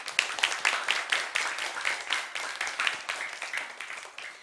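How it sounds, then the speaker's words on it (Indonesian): Audience clapping at an Eid special religious television program, a fairly small group applauding with a distinct rhythmic patter that stays moderately loud and slowly fades. "Saya boleh minta tepuk tangannya untuk Rumah Tahfiz Al-Huda."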